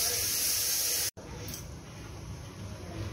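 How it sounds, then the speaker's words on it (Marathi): Eggplant and potatoes roasting on a wire grill over a flame, a steady loud hiss that cuts off abruptly, then returns as a quieter, softer sizzle. "आता हे छान भाजून घेणार आहे."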